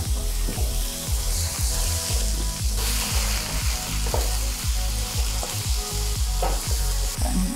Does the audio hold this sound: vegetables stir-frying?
yes